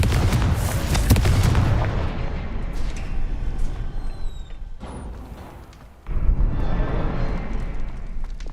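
A Confringo fire spell in Hogwarts Legacy bursts with a loud booming explosion, followed by a rumbling tail that fades before a second heavy blast.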